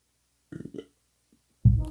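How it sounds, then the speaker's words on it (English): A short, low burp erupts close to the microphone after a quiet pause, following a brief earlier rustle of small sounds. "And I had a burp."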